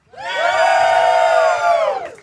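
A live audience of Iowa Hawkeyes fans lets out a loud collective cheer, with shouts and whoops rising fast, holding steady, then dipping briefly near the end.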